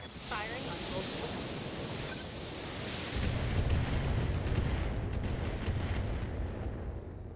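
An LRM missile barrage from a mech pounds the target in BattleTech (2018), a dense rolling roar of overlapping blasts. It swells louder midway and keeps up steadily with no clear gaps.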